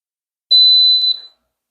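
An electric pressure cooker beeps to signal it has reached pressure: a single clear, high-pitched electronic tone lasting under a second, loud and alone in an otherwise silent kitchen.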